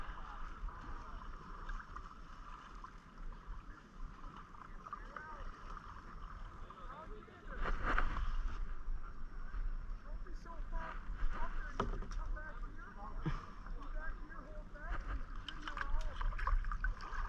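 A kayak is paddled through mangroves in Sarasota, Florida, with soft water splashes and paddle strokes under a hum of background noise, getting louder and busier in the second half.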